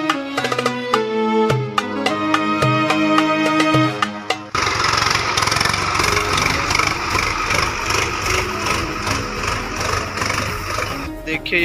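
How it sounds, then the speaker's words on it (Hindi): A tractor ploughs a rice paddy field, its engine a steady, rough drone that starts about midway through and runs continuously to the end, after a stretch of nearby talking. "देखिए यहाँ ट्रैक्टर लगा दिए हम लोग, ट्रैक्टर लगा दिए क्योंकि बहुत खेत हो गए जोतने के लिए"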